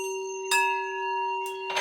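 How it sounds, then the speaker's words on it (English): Bright, sparkling magical chimes ring out with sustained tonal shimmer, two soft bursts of glittery tinkles rising over a steady bell-like drone, clear and fairly gentle with no voices. "the musical sound of magical chimes"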